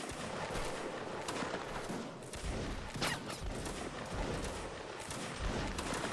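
Continuous gunfire in a shooting video game, dense overlapping shots and bursts filling the whole stretch at a steady, loud level with no pauses.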